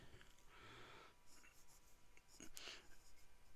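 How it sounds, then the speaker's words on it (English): An Atelier Lusso Carina Black Ice fountain pen writes on paper, faint scratchy strokes in short bursts with pauses, very quiet and close. "So let's do a writing sample"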